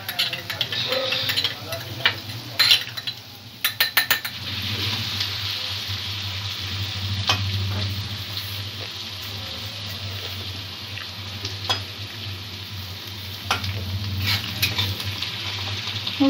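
Vegetables and noodles, with vinegar just added, are stir-fried in a pan with a continuous moderate sizzle, punctuated by brief clattering scrapes and taps from stirring.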